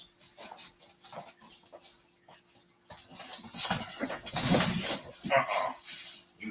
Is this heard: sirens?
no